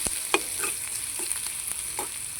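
A pan being stirred while food sautés, with a quiet steady sizzle and a handful of short, close utensil scrapes and taps.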